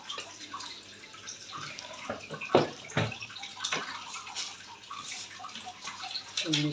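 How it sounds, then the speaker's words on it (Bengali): Hot water poured into a cup with milk and sugar for coffee, making a close, uneven trickling and splashing with a few louder plops. "তারপর গরম পানি দেওয়া হইল,"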